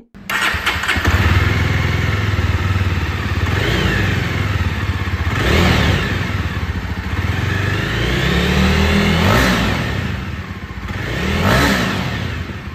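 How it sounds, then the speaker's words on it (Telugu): A Jawa 42 Bobber motorcycle, 2023 model, runs steadily while being ridden, its engine note rising and falling through several revving swells over a constant loud mechanical drone. "ఈ వెహికల్ అయితే ఇప్పుడు రైడ్ చేస్తా ఉన్నాను"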